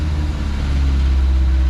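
Mazda B2000 pickup truck engine idling with a suspected rod knock, a steady close low rumble with a faint rhythmic knocking vibration running throughout.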